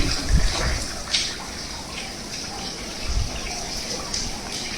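After the first rain on a farm near Kem in Karmala, Solapur, water gushes and splashes into a fifty-foot-deep open well forty feet wide. The rushing flow stays close and steady, with a few louder surges.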